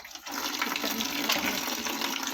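Water gushes steadily and loudly from a household tap, left running to fill a container at home, a continuous splashing rush with no speech.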